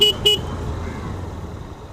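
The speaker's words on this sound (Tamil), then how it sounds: "ஹார்ன் சூப்பராக இருக்குது" Two quick honks from a Hero motorcycle horn, short and close, followed by a low engine rumble.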